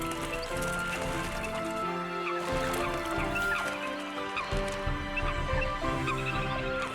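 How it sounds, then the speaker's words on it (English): Eurasian coots, water-dwelling birds, call and squabble while defending territory, a dense, continuous chorus of honking, clucking calls and splashing close by, with no talk. "The Eurasian coot would rather live in groups, but living in groups means conflict."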